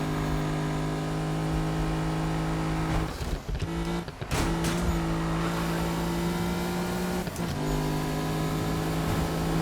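A Mercedes-AMG GT S in the Need for Speed 2015 racing game drives hard with a loud, steady engine drone. The engine briefly drops off twice around gear changes and once more later, with faint tire squeal.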